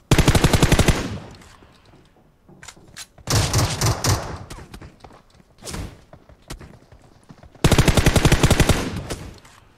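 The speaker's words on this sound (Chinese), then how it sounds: "听枪声" Automatic gunfire erupts in a PUBG-style battle royale video game: loud, rapid bursts open the scene, come again near the middle and at the end, and fainter single shots and thuds fall in between.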